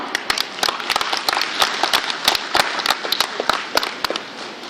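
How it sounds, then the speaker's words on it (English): A conference audience applauds to welcome a speaker, with a steady patter of many hands and sharp individual claps standing out. It is moderately loud and sustained, with no talking. "With a great round of applause, let's welcome the Chief General Manager, SBI, Shri Ashwini Mehra."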